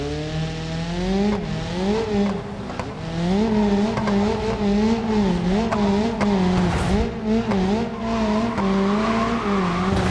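A car engine in BeamNG.Drive strains and revs steadily while its tyres spin and scrabble up a frozen ice wall, the pitch rising and dipping in waves as it fights for grip, loud and close throughout.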